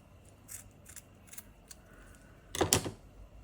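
Scissors trim the end of a tassel with a few faint, quiet snips, then one louder, crisp cut near the end, in a fairly quiet room.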